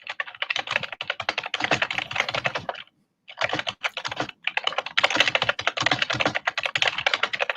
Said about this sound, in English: That is some furious typing.